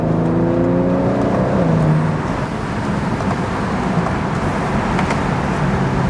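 A BMW 335i engine rises in a rev and then blips through a downshift, a strong tonal growl that sweeps and drops before settling into a rougher rumble, close and loud with no voices.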